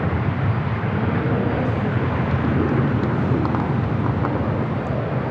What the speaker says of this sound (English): Latam Airlines 603 taking off to Santiago, Chile on the 787-8 Dreamliner.